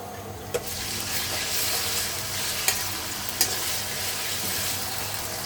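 Ginger garlic paste hits onions frying in oil with garam masala, giving a steady, even sizzling hiss with a few sharp clicks of a spoon against the pan.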